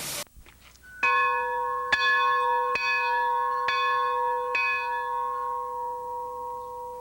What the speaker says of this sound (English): bells were often pitch personalized to individual locos